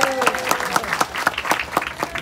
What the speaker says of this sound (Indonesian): Tepuk tangan dulu buat polisi.